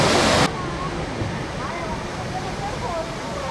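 A waterfall cascade at Poço Azul on a trail between Gramado and Três Coroas gives a steady, broadband rushing roar, loudest in a brief opening burst, then continuing evenly underneath throughout.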